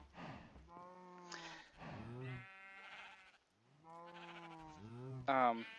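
Minecraft sheep bleat repeatedly up close, wavering nasal calls following one another with brief pauses, the last one higher and sharper.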